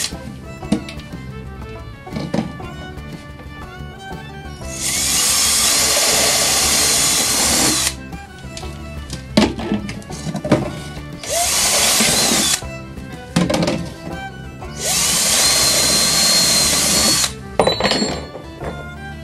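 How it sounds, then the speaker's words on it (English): A power drill boring holes through a plastic coffee container, with three long loud whirring runs separated by brief pauses, clicks and handling knocks, close up. "I'm going to drill two holes, one on each side."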